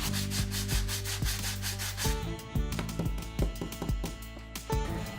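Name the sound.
sanding hardened plaster scenery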